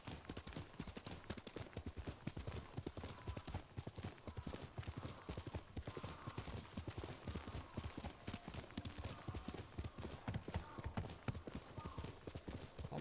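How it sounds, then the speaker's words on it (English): In the game Ghost of Tsushima, a horse's hooves beat out a rapid, continuous galloping clip-clop, close and steady throughout, with a brief whinny-like sound mixed in. "Wow, that horse can jump."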